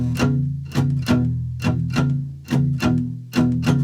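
Blues boogie pattern on a guitar, played with a swing feel as a repeating loping rhythm of paired strummed chords with low bass notes, about seven strokes in four seconds, close and alone with no talking.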